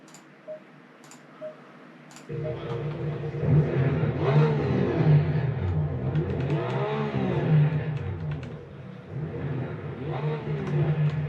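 A race car engine in a racing simulator game starts up with a click, then revs loudly and steadily, rising and falling in pitch with sharp ticking clicks scattered throughout.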